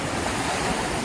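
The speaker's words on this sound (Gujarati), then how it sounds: "ખૂબ જ સરસ મજાના મોજા" Ocean surf washes steadily at Madhavpur beach, Gujarat, in a continuous broad hiss with low rumble, waves breaking close by with no voices.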